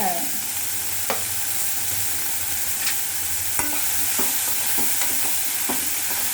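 Onions sautéing in a generous amount of oil for a squid gravy, a dense steady sizzle with occasional light taps and scrapes of a spoon, close and alone with no talk.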